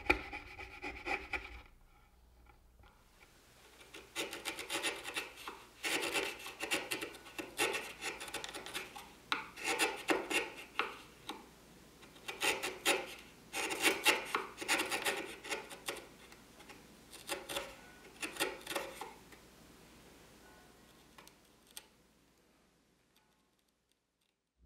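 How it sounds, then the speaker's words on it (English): A hand chisel pares wood from a clamped walnut candle holder, producing quiet repeated rasping scrapes in uneven bursts, close up, with short pauses between strokes. "I clamp the piece down and begin removing wood with the chisel."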